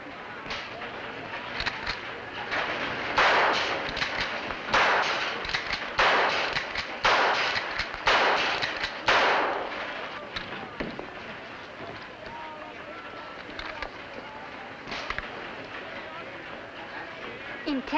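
Target-shooting gunshots in a 1952 film scene, a run of sharp, moderately distant cracks grouped in the first half, with voices speaking throughout.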